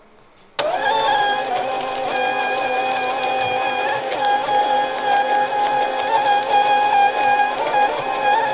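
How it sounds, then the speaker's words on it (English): Ribbon Writer printer printing a sash ribbon starts abruptly and runs as a steady, loud mechanical hum with a tonal motor whine, continuous and close, with no voices. "And then simply send the print."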